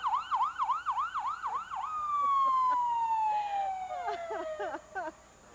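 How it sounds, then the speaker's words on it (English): Siren of a red Bloomingdale Volunteer Fire Department fire truck rolling through the 1998 Kingsport Fun Fest Parade, rapid yelping cycles giving way to a long falling wail, fairly close, with faint background voices. "Well, that's a fire truck."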